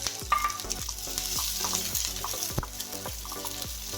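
Two medium onions, cut into long slices, frying and stirred in hot oil, a continuous close sizzle punctuated by a steady series of knocks and scrapes from the spoon against the pan.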